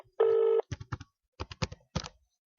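Telephone line tones on a call-in radio show: a steady ring-back tone, then bursts of clipped electronic tones with short gaps, another tone starting at the end.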